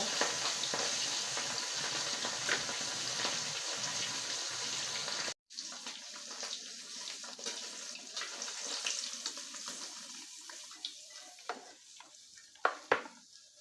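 Steady sizzling and crackling of leftover paksiw frying in a pan, close and continuous, with occasional clinks and stirring sounds and no talking.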